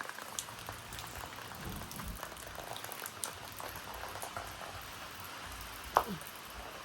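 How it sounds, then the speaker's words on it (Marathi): Steady heavy rain falls in a constant soft hiss in a jungle, with a single sharper knock near the end. "तर पाऊस जाम जोरात यायला लागलाय"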